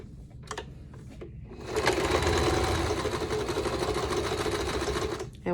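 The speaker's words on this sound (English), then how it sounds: "when you're stitching, you always back stitch so we can lock in the thread, so the thread doesn't come loose" After a few short taps, a sewing machine runs steadily for several seconds, stitching fabric for a face mask with a fast, even mechanical whir close by.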